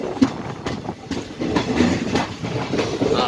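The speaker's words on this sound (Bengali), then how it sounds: "আর একটুখানি লেট করে আমাদের কাঞ্চনকন্যা এক্সপ্রেস ছেড়ে দিয়েছে" Kanchankanya Express running on the Dooars route out of New Mal Junction, a continuous rumbling roar from inside the carriage with rhythmic clickety-clack wheel beats recurring throughout.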